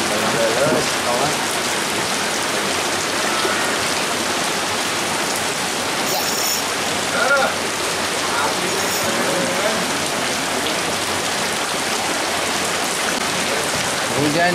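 Rain falling outdoors at a carp fishing spot: a dense, steady patter and hiss of drops on surfaces that continues unbroken throughout.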